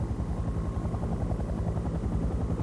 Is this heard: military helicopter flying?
yes